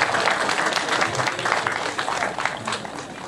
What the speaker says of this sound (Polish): Brawa dla zwycięzców, dla uczestników.